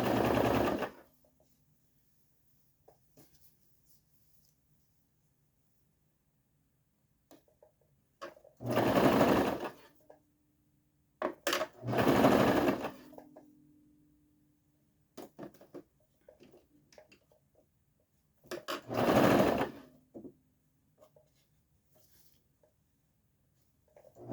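A sewing machine stitches neck binding onto a jumper in several loud bursts of running, separated by quiet pauses, with no talking.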